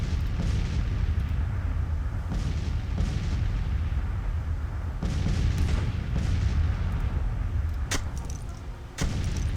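Civil War artillery guns in the strategy game Grand Tactician firing in a loose, irregular series of deep booms, with a few sharper, louder reports toward the end and no talk.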